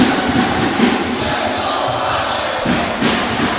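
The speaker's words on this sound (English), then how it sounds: "Crowd in full force now" A loud basketball crowd roars and cheers steadily at a preseason Manchester Magic versus Cheshire Phoenix game, with a faint commentator voice mixed under the noise.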